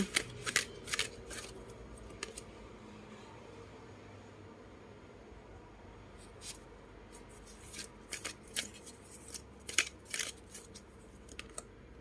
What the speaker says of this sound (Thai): มาดูไพ่ออร์เคิลสามใบนะคะ